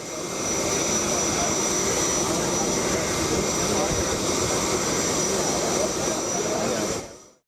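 An airplane taking off from Chennai for Delhi, a loud steady broadband jet engine roar that holds for several seconds and then cuts off abruptly, with voices faintly underneath.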